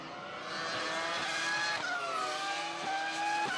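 Formula 1 cars from the 2000 season race around a circuit, a loud, high-pitched engine wail that climbs through the revs with sharp gear-change drops, heard close with no talk.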